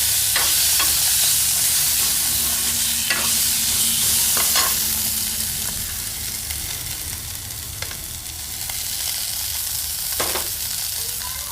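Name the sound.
small fish frying in pan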